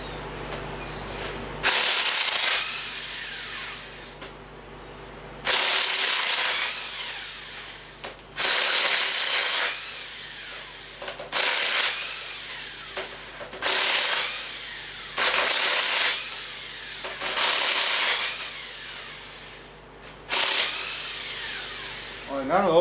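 Cylinder head bolts on a Chevy 283 V8 engine are worked loose in repeated rhythmic bursts of about two seconds each, about six in total, close and fairly loud, separated by quieter gaps with low background hum.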